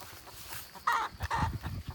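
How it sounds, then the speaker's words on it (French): A hen gives two short, fairly loud clucks close by, one after the other, over a quiet outdoor background. "La poule, elle réagit, ça va l'exciter"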